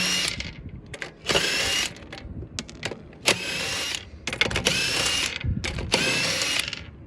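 Wheel nuts being removed from a raised BMW 1 Series drift car with a power tool, several short whirring, rattling bursts separated by brief pauses, close by and moderately loud.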